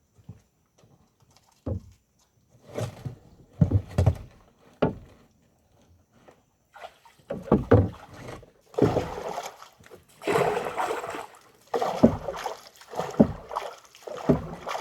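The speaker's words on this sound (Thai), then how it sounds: "แล้วก็พายหาร่องนะครับ พายวางไปเรื่อย ๆ ครับ" A boat is paddled through mangrove water while setting black crab traps, giving soft irregular splashes and dips that come sparse at first, then grow busier and louder toward the end.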